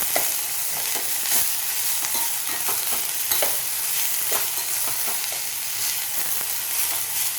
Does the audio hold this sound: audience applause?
no